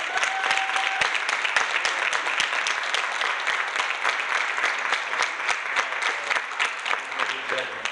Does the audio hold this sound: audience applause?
yes